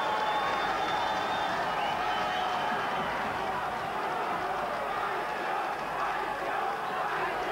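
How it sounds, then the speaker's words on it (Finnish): An ice hockey crowd at a 1985 Finnish game shouts for offside, a continuous roar filling the arena with a voice talking over it. "Paitsiota huutaa yleisö."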